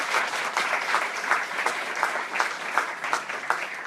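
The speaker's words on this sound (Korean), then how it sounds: "다시 한번 박수 한번 보내주시겠어요?" Dense audience applause at a public talk event on youth voting rights, steady and close, filling the space with continuous clapping and no talk over it.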